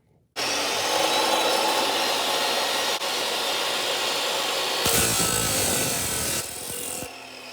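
A 14-inch chop saw starts abruptly and cuts with a loud, steady abrasive whine and grinding roar, close by, shifting in pitch as the blade bites, then winding down near the end.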